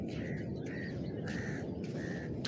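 A crow among wild pigeons at Bakkhali caws four times at an even pace, moderately faint above a constant background rumble, with no talking.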